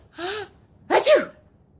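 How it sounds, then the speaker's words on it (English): A woman sneezes once up close, a short breathy intake followed by a sharp, forceful "achoo" burst. "Mama sneezes aren't funny"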